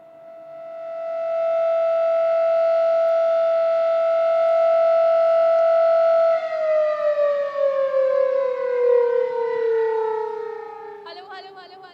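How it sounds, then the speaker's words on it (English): An air raid siren sounds during a civil defence mock drill in Delhi, wailing steadily on one high pitch, then slowly winding down in pitch; loud and alone, faint voice at the end. "there you just heard that siren going off"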